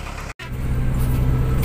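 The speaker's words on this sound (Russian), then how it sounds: "Мы сели уже в автобус до Мерсина." A bus engine running while riding toward Mersin: a steady low rumble and broadband road noise, close and continuous, with one brief dropout near the start.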